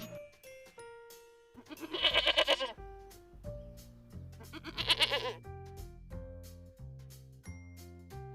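A goat bleats twice, loud and wavering, a few seconds apart over a light plinking musical tune.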